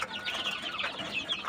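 Native desi chicks, about forty days old, peep and cluck faintly and continuously at close range, with no talk.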